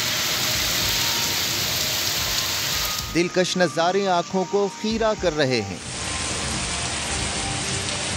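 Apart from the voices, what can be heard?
rain falling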